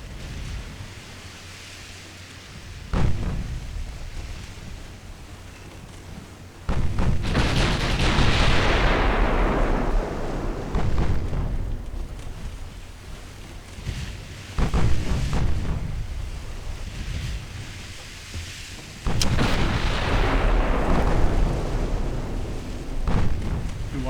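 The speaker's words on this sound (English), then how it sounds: "We'll keep the mains firing at Emperor of India." Heavy naval main guns firing at an Emperor of India class battleship in Ultimate Admiral Dreadnoughts, with several loud booming salvos whose roar swells and rumbles away, spaced several seconds apart over constant battle noise.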